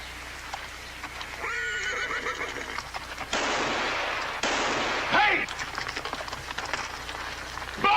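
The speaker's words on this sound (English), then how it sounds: "He's stampeding our horses." Horses neigh and whinny loudly during a Wild West stampede, with hoof clatter and sharp bangs in the scene, while someone speaks over the commotion.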